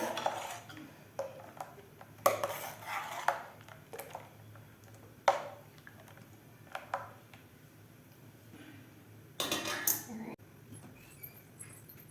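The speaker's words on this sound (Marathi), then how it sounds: "इथे आता आपल्याला गॅसवरती कढई ठेवून याला एक छान अशी उकळी आणून घ्यायची आहे" A metal kadai is set down on a gas stove in a home kitchen, giving a few sharp clanks and scrapes of metal among quieter clatter, with no one speaking.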